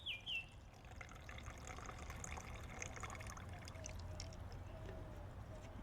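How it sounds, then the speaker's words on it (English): Half a cup of water trickles and pours steadily onto degraded soil in a rain simulator, a soft continuous splashing that stays faint throughout. "Half a cup of water in my rain simulator."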